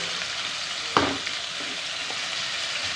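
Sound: meat frying in a pan for koyla karahi

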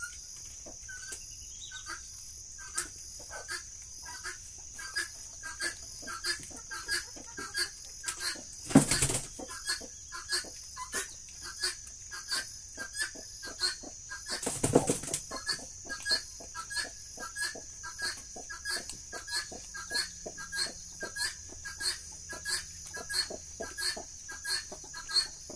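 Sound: chickens clucking in a corn field

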